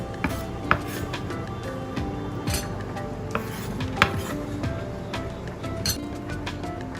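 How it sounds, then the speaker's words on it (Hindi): Chopped bell peppers are tipped into a bowl in a home kitchen for a Jamaican salad, producing soft clatters and a few sharp clinks of utensil on bowl over a steady low background hum. "ये मैंने बेल पेपर ये काट लिए हैं, इनको एक बाउल में शामिल कर देते हैं"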